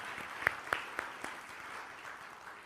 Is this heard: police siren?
no